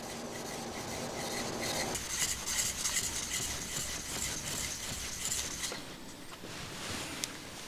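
Cabinet scraper being rubbed back and forth on a wet sharpening stone, a steady gritty scraping and rasping close by, continuous and moderately quiet, with no talk.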